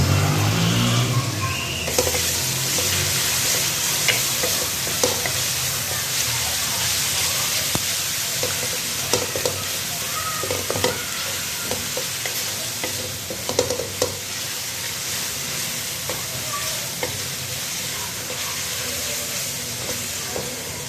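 Aloo gobhi matar with green chili paste fries in a pan, giving a continuous loud sizzle while scraping stirring strokes keep breaking through the steady hiss.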